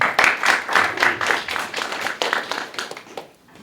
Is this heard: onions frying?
no